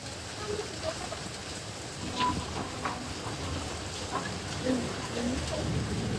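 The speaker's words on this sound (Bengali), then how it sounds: "তো বাইরে অনেক জোর বৃষ্টি শুরু হয়েছে" Heavy rain falling outside during a downpour, a steady faint hiss of drops with occasional soft knocks and a distant low rumble, continuous with no voices.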